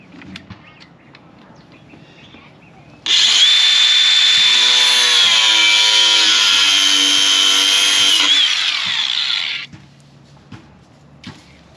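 A power tool screams loudly and continuously for several seconds while cutting through a rubber bumper piece with steel cable inside during a Body Armor 4x4 Hiline bumper install, with quiet clatter before and after.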